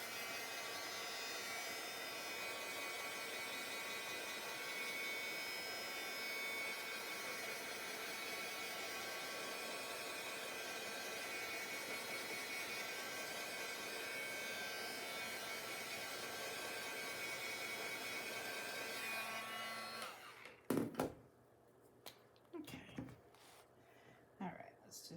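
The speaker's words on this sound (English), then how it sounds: "I think I'm gonna hit it with the heat gun here" A heat gun dries paint on a journal page, blowing a steady, loud, close whoosh for about twenty seconds before it switches off, leaving faint handling noises.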